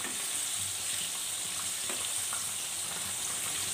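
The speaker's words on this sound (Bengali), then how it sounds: "চিকেনগুলো এক পাশ ভাজা হয়ে গেলে অন্য পাশ উল্টে দিতে হবে" Chicken pieces frying in oil for chilli chicken, a continuous close hiss and crackle with occasional light pops and faint stirring, no talking.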